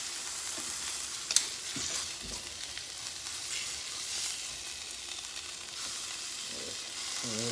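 Mixed vegetables such as broccoli and carrots frying in a pan at home, a steady soft sizzle with occasional stirring clinks and scrapes, heard up close with no talking.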